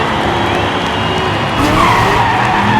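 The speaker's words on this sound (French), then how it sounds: "dérapage sévère de Mister Russell" A race car skids hard through a rally-style final, a sustained loud tyre scrape over engine roar that swells near the end, with commentary around it.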